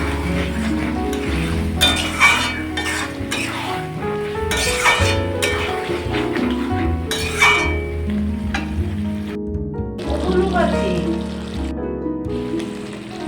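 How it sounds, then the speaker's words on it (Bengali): Jackfruit stir-fries in a pan with a steady sizzle, while a spatula scrapes and clinks against the metal now and then. Nothing else is heard, and no one speaks. "এঁচড়টা দিয়ে এবার ভালো করে কষিয়ে নেব"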